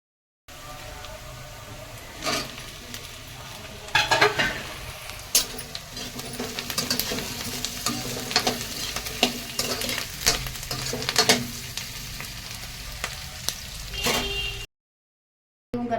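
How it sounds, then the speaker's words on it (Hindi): Onion and okra bhujia stir-frying in a pan: a steady close sizzle broken by repeated spatula scrapes and clatters, running continuously before cutting to brief silence near the end. "तो अब इसमें प्याज ज़्यादा डालते हैं और एकदम प्याज और भिंडी की भुजिया बनाते हैं"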